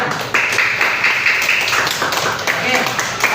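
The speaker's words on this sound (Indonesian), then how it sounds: "Selanjutnya tepuk tangan dulu kita semuanya." A school class claps together on a teacher's request, a few seconds of dense, close hand-clapping that rises, holds and breaks into scattered claps, with some voices underneath.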